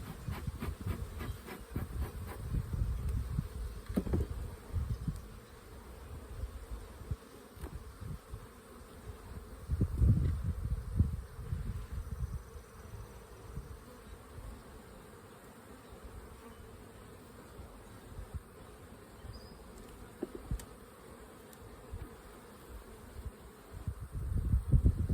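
Honeybees in a spring hive box give a low, constant drone up close, with irregular bursts of handling and rustling noise and some soft hissing from smoke.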